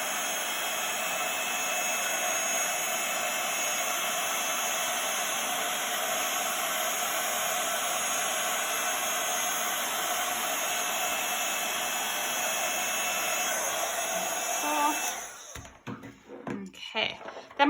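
An embossing heat tool melts powder on a handmade ice-skate card, a steady whirring fan-and-air hiss running for about fifteen seconds before cutting off into quieter handling noises.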